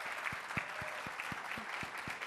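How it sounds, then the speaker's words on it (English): Scattered applause at a town hall on economic inequality, a few distinct claps standing out at a regular beat over a thin wash of faint, distant clapping. "You should all applaud her"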